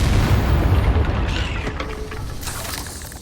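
A Confringo fire spell in Hogwarts Legacy bursts into a loud, booming explosion with a heavy low rumble that decays over a few seconds, followed by crackling and faint magical shimmer.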